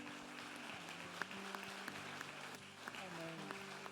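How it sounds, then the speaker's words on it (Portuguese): A church congregation at a Christmas cantata applauds, a continuous, fairly quiet patter of many hands, with voices and sustained tones running underneath. "Se você crê, dê um aplauso aí"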